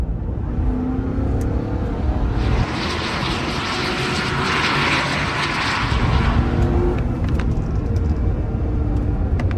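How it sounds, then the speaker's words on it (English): A Corvette driven hard around a race track on its first track day, its engine a loud, sustained roar that holds steady and swells slightly mid-run, continuous throughout with no talk. "Let's run like 2 or 3 really hard laps and you can just watch"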